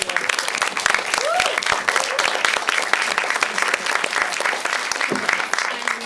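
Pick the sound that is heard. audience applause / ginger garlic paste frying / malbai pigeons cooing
audience applause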